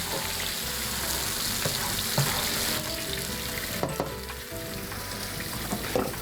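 Food fries in a hot pan, a steady close sizzle that runs throughout, with occasional scrapes and clinks as it is stirred and mixed.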